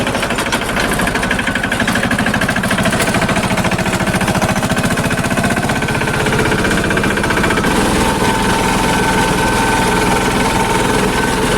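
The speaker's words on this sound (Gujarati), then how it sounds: "જો આ ટ્રેક્ટર આવી ગયો ફરી." A farm tractor's engine runs loud and close without pause, a rough, rapid knocking diesel chug that holds steady throughout.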